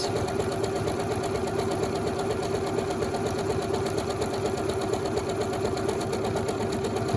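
A sewing machine stitches an automatic one-step buttonhole, running bar tacks and straight beads. It makes a continuous, even, rapid whirring close by, with no talking.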